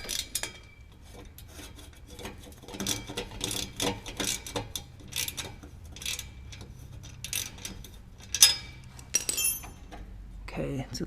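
A 10mm ratchet wrench tightening exhaust bolts on a Chevy Colorado ZR2 during an exhaust install, giving quick repeated clicking strokes at close range, with someone talking intermittently over the work.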